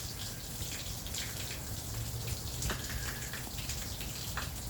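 Water flushing steadily out of a boat's intake hose during mussel cleaning, a continuous close splashing and trickling with scattered droplet patter, no voices.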